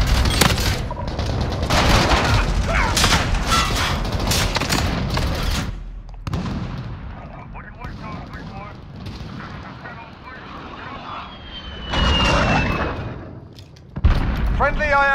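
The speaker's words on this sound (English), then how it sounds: "Allied cruise missile away." Cruise missile strikes in Call of Duty: Modern Warfare set off heavy booming explosions and rolling blasts mixed with gunfire, loud and dense at first, then quieter, with another burst near the end and in-game voices between.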